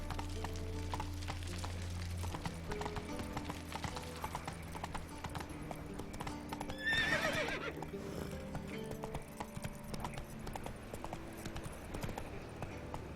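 Roach the horse galloping in The Witcher 3: steady rhythmic hoofbeats clip-clopping over a low music bed, with a loud neigh midway.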